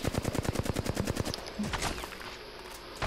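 Rapid automatic gunfire in the video game Apex Legends, a fast burst of evenly spaced loud shots for about a second and a half, then a few scattered impacts and rumbling echoes.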